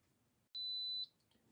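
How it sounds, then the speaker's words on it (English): An Instant Pot pressure cooker beeps when it finishes cooking: one long high electronic tone, then a short chirp and the start of another beep, faint over quiet room noise. "the Instapot has just sounded off as what you hear"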